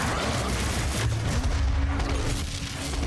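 Enemy gunfire in Doom (2016), Level 2, makes a dense roar of shots and booming blasts that continues without pause, loud and close.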